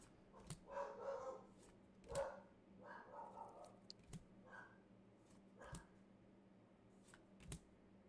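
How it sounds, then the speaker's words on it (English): Dogs bark in short sharp bursts, several yips spaced a second or two apart, heard faintly from a distance indoors while a card booster box is opened. "Just ignore the dogs."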